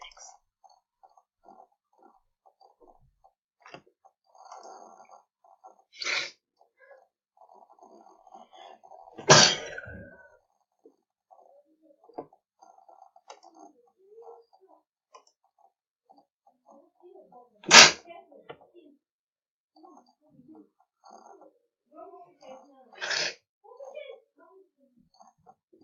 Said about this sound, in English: I sneezed a lot.